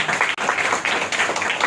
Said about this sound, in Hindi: बच्चों को अप्रिशिएट करना चाहिए, जोरदार तालियों से अभिनंदन करना चाहिए।